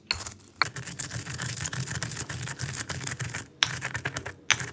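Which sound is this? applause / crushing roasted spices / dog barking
crushing roasted spices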